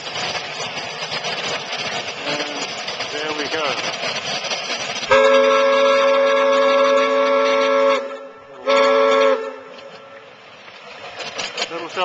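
Vintage traction engine in a slow race at a tractor show, a steady mechanical chug with a loud sustained whistle-like toot that cuts in and out, crowd noise and a short spoken remark over it.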